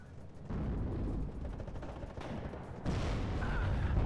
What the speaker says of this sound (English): I didn't realize I was being shot at.